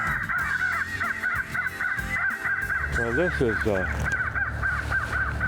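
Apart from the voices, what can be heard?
crow calls from a FoxPro electronic caller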